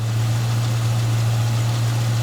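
A 1969 Ford Mustang Mach 1 V8 idles steadily, a deep, even rumble with a constant low hum, close and unbroken throughout.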